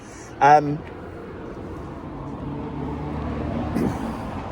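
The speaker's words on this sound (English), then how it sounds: "Noisy lorry." A heavy lorry rumbles past nearby, its low engine noise swelling and fading, with a brief loud honk-like burst near the start.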